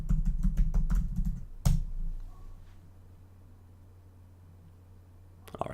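Quick, close bursts of keystrokes on a computer keyboard as a password is entered, ending after about two seconds and leaving only a low, steady hum.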